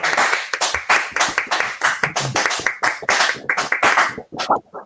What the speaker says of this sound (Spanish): Los invitamos a todos a tener unos aplausos virtuales.